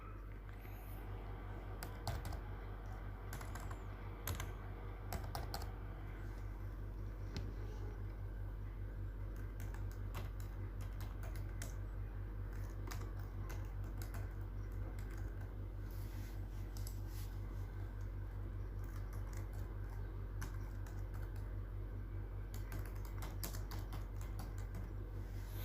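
Rapid typing on a computer keyboard while entering an email address, a long run of close, irregular key clicks over a steady low hum, with no talk.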